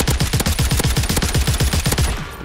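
Rapid automatic gunfire from the Call of Duty match on Rebirth Island, a DTIR 30-06 rifle, rattles out as a fast, even string of about twenty loud close shots that stops abruptly.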